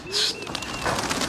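Pigeons coo at a pigeon flying contest, a soft throaty call and brief chirp heard close over a steady outdoor hiss.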